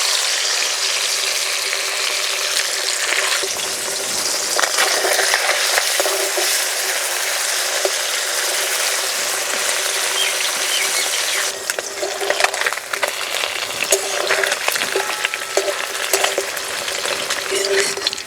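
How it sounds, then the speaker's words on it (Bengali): Small puti fish frying in oil, a loud, dense, continuous sizzle and crackle that roughens and grows more uneven in the later part. "বাকি মাছগুলো এভাবে ভেজে নেব।"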